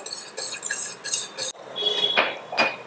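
A spoon stirs roasted barley powder into water for tea in a cup, giving a run of quick close clinks and scrapes, then two brighter taps against the rim.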